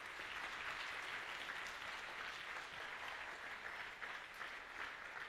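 Steady applause from an audience at a cosplay contest at the Swiss Fantasy Show, a dense, continuous wash of many hands clapping at an even level throughout, with no voices standing out.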